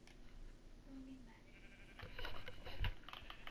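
Sheep in Minecraft bleat with short wavering cries over light background noise, followed by a denser stretch of clicks and thumps from the game.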